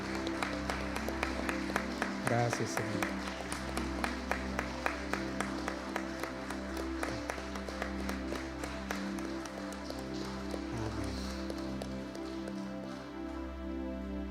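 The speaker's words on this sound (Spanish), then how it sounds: "Démosle un fuerte aplauso al Señor." A church congregation gathered for a marriage dinner claps steadily for the Lord, a sustained crackle of applause over low music, with a brief spoken thanks partway through.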